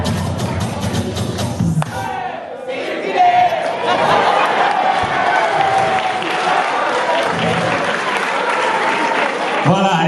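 Audience applause during a one-man comedy show, dense clapping with scattered cheers and shouts that swells after a brief dip and holds steady, loud and close, with voices mixed into the crowd noise.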